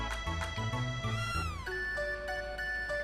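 Cartoonish cat meows from the Chrono Trigger video game, a short series of chirpy synthesized mews followed by a longer falling meow and lingering tonal notes, set over a soft game soundtrack.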